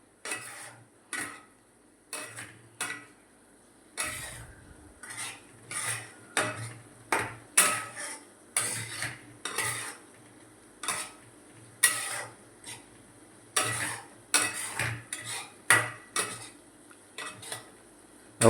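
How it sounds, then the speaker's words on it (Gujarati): Cashews frying in a pan for a cashew paneer curry, stirred with a utensil in a run of distinct scraping, clinking strokes against the pan, with short pauses between and a faint sizzle underneath. "કાજુ નાખ્યા હવે થોડી વાર હલાવીને બરાબર મિક્સ કરી લઈશું."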